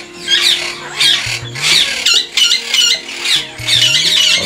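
A breeding pair of conure parrots squawks loudly in repeated harsh bursts, close by, with brief gaps between calls.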